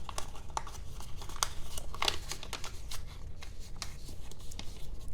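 Soft, close crinkling and rustling of origami paper being folded and creased into a frog, with a steady run of light crisp rubs and taps and no talking.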